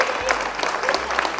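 An audience at a book fair, the Salon du livre in Rozay-en-Brie, clapping in a short dense burst of applause, close and fairly loud, with a voice faintly mixed in.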